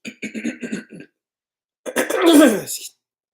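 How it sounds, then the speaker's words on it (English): Someone talks briefly, pauses, then gives a loud, rasping throat clear close to the mic. "Apologize for clearing my throat."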